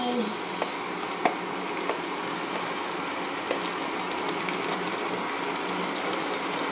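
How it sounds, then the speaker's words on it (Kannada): Onions frying on a low flame in a pan, a steady soft sizzle with a few small pops and crackles running throughout. "ನಂತರ ಈರುಳ್ಳಿ ಹಾಕಿ ಈರುಳ್ಳಿನ ಲೋ ಫ್ಲೇಮಲ್ಲಿ ಫ್ರೈ ಮಾಡ್ಕೋಬೇಕು"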